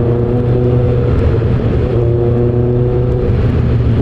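A Zexel motorbike revs hard as it passes, giving a loud, steady engine drone with a tonal whine. The sound stays strong and close the whole time, with no speech.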